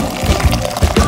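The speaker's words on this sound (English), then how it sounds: "And then add more water for my potato." Water pouring into a cooking pan of vegetables for potatoes, a brief, close splashing and gurgling fill with a few soft glugs.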